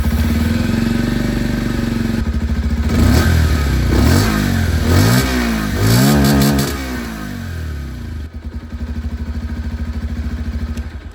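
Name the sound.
Bajaj Pulsar 125 motorcycle exhaust sound, revving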